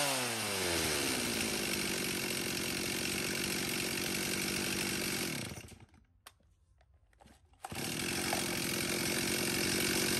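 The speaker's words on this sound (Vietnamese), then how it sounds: "Cửa hàng chúng em xin phép giật test nổ con này cho các bác nghe qua." A used Stihl 026 chainsaw running loud and close, its engine revving up then dropping to a brief idle before throttling back to a high whine.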